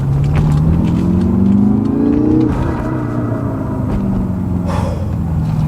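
A Dinan-tuned 2016 BMW M5 with a twin-turbo engine accelerates hard, its loud rising engine note climbing steadily before a gear change drops the pitch, then pulling again from close inside the car.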